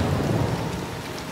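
Steady heavy rain pours down with a low rumble of thunder rolling underneath, a dense, continuous wash of sound with no voices.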